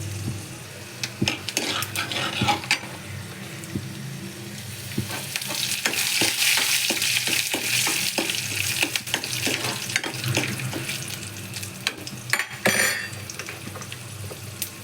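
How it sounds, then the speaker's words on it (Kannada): Peanuts and urad dal fry in hot oil while a spoon stirs them, with a steady sizzle broken by sharp scraping clicks and clatter against the pan. No one speaks. "ಇವಾಗ ನಾನು ಸ್ವಲ್ಪ ಉದ್ದಿನ ಕಾಳನ್ನ ಹಾಕ್ಕೊತಾ ಇದ್ದೀನಿ"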